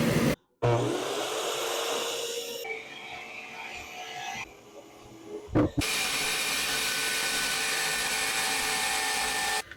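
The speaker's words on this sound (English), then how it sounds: "I had to drill out that key for one of these axles" A drill whines against metal in several bursts while drilling out a stuck key on an ATV trailer axle, cutting out briefly and changing pitch, with a sharp knock midway before steady drilling resumes.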